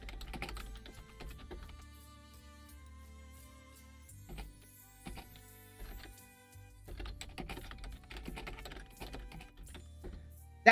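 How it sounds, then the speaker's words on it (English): Rapid keyboard typing clicks in irregular bursts, fairly close and moderately loud, running the whole time over a steady low hum and faint background music. "so I apologize for the typing"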